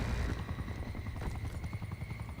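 Helicopter in the Call of Duty Black Ops Cold War video game, a close, loud, rhythmic rotor chop that pulses steadily throughout with no talking.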